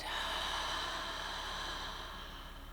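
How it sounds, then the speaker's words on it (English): One long, breathy exhale blown out through an open mouth during a relaxation breathing exercise, close and steady, fading gradually over nearly three seconds with no other sounds. "And this time open your mouth and exhale it out."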